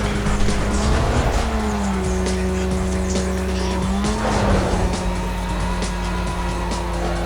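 Game car engine in Need for Speed Most Wanted (2005) roars loud and close as it accelerates under nitro, the pitch holding high and shifting up, with tire squeal and skidding layered over the continuous drone.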